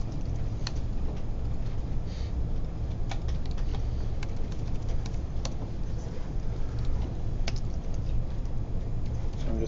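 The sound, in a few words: typing on a computer keyboard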